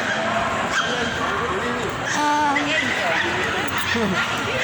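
Dogs at an indoor dog festival in a shopping mall give short yips, whimpers and barks amid a loud, crowded hall, with people talking throughout.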